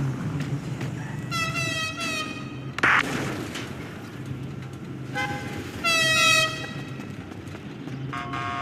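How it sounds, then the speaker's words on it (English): Several loud car horn honks in the game GTA blare in separate bursts over a steady engine rumble, some long and sustained, close and insistent. "Stop honking, guys."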